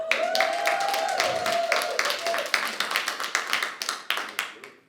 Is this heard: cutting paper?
no